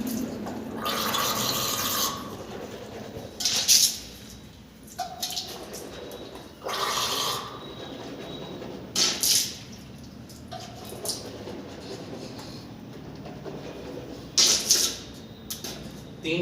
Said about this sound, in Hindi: जब दांतों की सफाई हो गई तो आप 3 बार कुल्ली करेंगे।